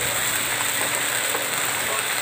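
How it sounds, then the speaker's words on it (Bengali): Spices frying in a pan for chicken, a dense continuous sizzling hiss of hot oil, loud and close, steady from start to end with no talk. "মশলাগুলোকে এবার ভালো মতন কষিয়ে নিতে হবে।"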